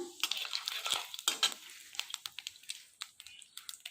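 Whole cumin seeds frying in hot oil, close, quiet crackling and popping in rapid irregular bursts with sharp little spits, softer and sparser toward the end.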